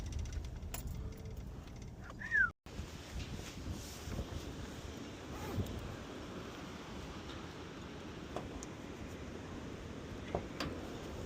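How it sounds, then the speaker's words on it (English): Strong wind gusting across an outdoor microphone on the way to a Toyota 4Runner repair job, a steady broadband rumble throughout with a brief dropout and a few faint clinks. "Windy as hell."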